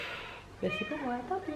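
A domestic cat meows in a short, tonal call, heard close and moderately loud, with a person speaking French over and around it.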